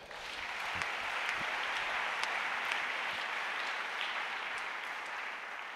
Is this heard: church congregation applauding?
yes